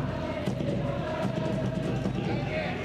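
Crowd cheering and a rising roar from spectators at a high school soccer final in Fukushima, sustained and fairly distant, with a commentator's voice running over it.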